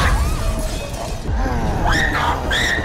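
Glass shattering in a scene from the horror film The Pope's Exorcist, where a possessed boy uses telekinesis, heard as loud crashing and ringing debris within a dense, echoing mix of effects and tense noise.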